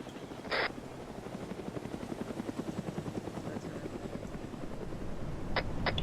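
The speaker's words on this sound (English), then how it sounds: "I hear a helo" A helicopter flies close by with a steady, rapid rotor chop that holds throughout and builds slightly toward the end, amid an outdoor airsoft skirmish with brief bursts of other noise.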